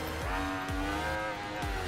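An Aprilia RSV4 1000cc V4 motorcycle engine howls at high revs, a steady resonant drone with repeated swooshing passes, heard faintly from a rider's viewpoint.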